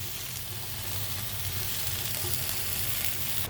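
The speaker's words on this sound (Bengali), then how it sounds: "লোট্টে মাছটা আরও 5 মিনিটের মতন ভালো করে কষিয়ে নেব।" Bombay duck (lotte fish) jhuri sautéing in a pan, a steady, even sizzle that holds at one level throughout without breaks or spoken voices.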